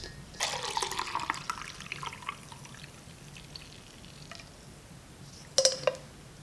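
Boiled ginger tea is poured through a strainer, a steady liquid stream and trickle lasting a few seconds at close range, fading to quiet before a short clink and splash at the end.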